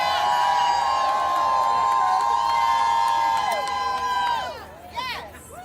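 A rally crowd of disability-rights advocates at a housing rally cheers and screams loudly and steadily, with high shrill voices, then the roar fades and breaks into scattered whoops near the end.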